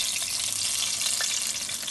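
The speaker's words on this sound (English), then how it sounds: "So round 2 frying, we fried it once halfway, remember?" Egg rolls frying in hot oil during a second round of frying, a dense, steady sizzle and crackle, close and loud, with no talking.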